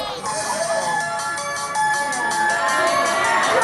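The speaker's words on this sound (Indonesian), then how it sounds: "Ringtone-nya dangdut." A tinkling, melodic dangdut music phone ringtone plays continuously with a bouncy rhythm, steady and fairly loud, with faint background chatter.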